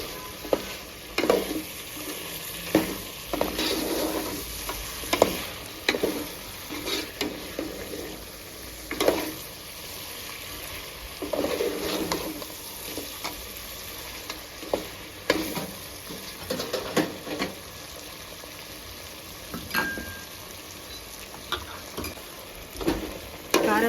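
Country chicken curry with chili powder being stirred and fried in a pot: steady close sizzling broken by repeated scraping stirs at an irregular rhythm, with no talking.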